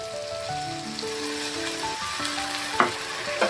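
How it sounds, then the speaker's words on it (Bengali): Onion and tomato masala sizzles steadily in a pan while cooking okra with poppy seed, a continuous close frying hiss with soft stirring scrapes and faint tonal music underneath. "দেখো, পেঁয়াজ আর টমেটোটা খুব ভালো করে ভাজা হয়ে গেছে"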